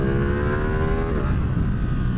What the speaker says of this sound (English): You ever heard like a CBR 600 with the stock exhaust?